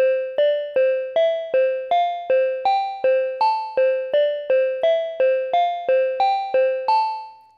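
An OP-1 Field synthesizer runs its type 3 arpeggiator pattern, a steady run of about sixteen crisp, evenly spaced notes climbing through a repeating six-step figure, the final tone sustaining and fading out alone.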